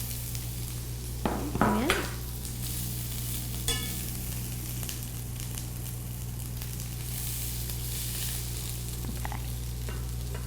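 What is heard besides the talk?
red onion sizzling in a hot pan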